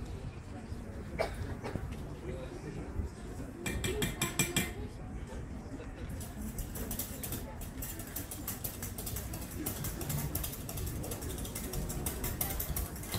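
A whisk beats langoustine sauce in a pan in a professional French kitchen, rapid metallic clinking and scraping running continuously, with bursts of quicker strokes, under occasional talk.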